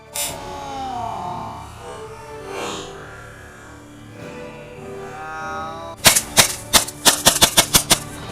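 Paintball guns firing at contestants on an outdoor field, a rapid burst of sharp loud pops arriving in quick succession near the end after a quieter stretch of muffled background noise.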